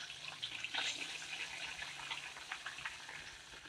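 Chicken pieces frying in a pan of cooking oil for Korean-style double-fried chicken, a faint steady crackle and hiss with scattered pops, no voices.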